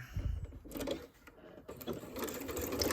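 A sewing machine runs close by in short bursts while stitching in reverse over a seam on a fabric door latch cover, its rapid mechanical clatter stopping briefly before starting again.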